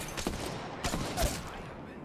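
Gunfire in the video game Apex Legends, a few short bursts of shots at moderate distance over a steady game background.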